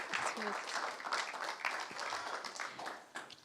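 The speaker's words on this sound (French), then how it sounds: "On peut l'applaudir aussi" Scattered applause from a crowd at a regional student business awards final, a moderate patter of clapping that continues steadily without voices standing out.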